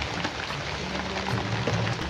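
Steady, dense hiss of rain falling hard on a surface, continuous and enveloping with a low rumble underneath and no voices.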